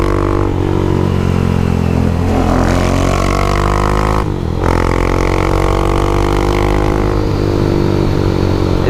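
A big single-cylinder motorcycle engine under way, a loud, close, continuous thumping drone that shifts pitch as it revs and eases through gears, with one brief dip partway before it pulls again.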